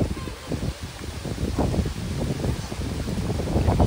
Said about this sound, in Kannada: ಎಂತ ಗಾಳಿ ಕೂಡ